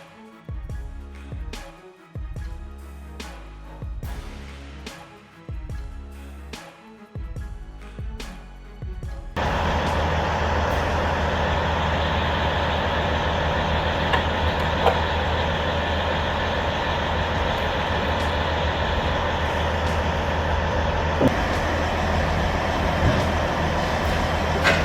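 An RS-150 four-shaft shredder cuts up a car body. After a few seconds of irregular rhythmic thumps, a loud, heavy, continuous mechanical roar takes over and holds steady.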